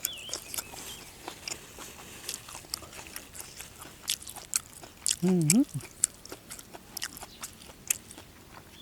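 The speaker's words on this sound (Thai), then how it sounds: "ฟังเสียงหย่ำได้พี่น้อง" Close, crisp crunching bites and chewing, repeated irregularly, with a short vocal sound in the middle.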